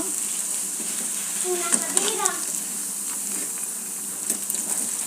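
Ivy gourd pakoda fritters frying in hot oil, a steady close sizzle with brief spoon stirs and a couple of light scraping clinks, a faint voice murmuring in the background.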